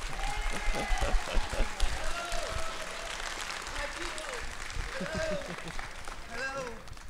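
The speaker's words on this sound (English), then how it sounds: "Everyone give him a round of applause" Applause from a convention panel crowd greeting a voice actor runs under talking and a few shouts, moderately loud and uneven, with people speaking over the clapping.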